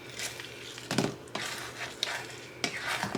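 A utensil stirs and scrapes through beef, crumbled bacon, butter and eggs frying in a pan, with a steady sizzle beneath several distinct scraping strokes spaced about a second apart.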